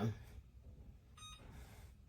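Kitchen timer beeping as it is set, a short run of clear electronic tones in a home kitchen, heard amid faint handling noise.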